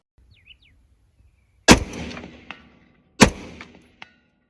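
A 10.5-inch AR-15 rifle fires two loud, sharp shots spaced about a second and a half apart on an outdoor long-range course, each with a trailing echo, plus a faint distant thump after and a brief bird chirp early on.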